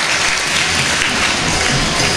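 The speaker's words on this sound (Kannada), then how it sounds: "ಗೀತಾ ತುಂಗಾ ಸ್ವಸಹಾಯ ಗುಂಪು ಚಪ್ಪಾಳೆ ಮೂಲಕ ಅವರನ್ನು ಪ್ರೋತ್ಸಾಹಿಸಬೇಕು." A crowd claps for a self-help group at a community sports event, with dense, loud, continuous applause throughout.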